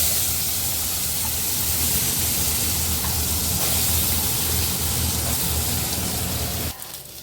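Eggplant and potato pieces sizzle in hot oil over a high flame, a loud, steady, close hiss that runs unbroken for several seconds before dropping off abruptly near the end.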